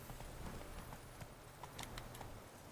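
Hooves of Roach, the horse in The Witcher 3, clip-clopping very faintly in a steady walking rhythm beneath a low game ambience.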